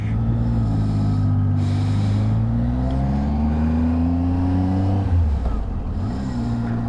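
A car engine hums steadily and loudly on a mountain road near Khardung La in Ladakh, its tone slowly rising and then dropping as it changes speed, with no talk over it.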